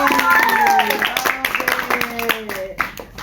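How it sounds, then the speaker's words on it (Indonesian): Children at an elementary school event clap their hands in a quick, uneven burst of claps while an adult voice talks over it, with lively chatter filling the room. "Sekali lagi tepuk tangan lagi."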